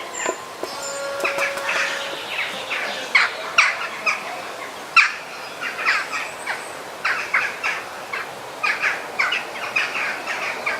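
A small sparrow-like bird feeding in a tree inside an enclosed, climate-controlled display at Burgers' Zoo gives repeated short chirps and calls, moderately close, over a soft background hum with no talking.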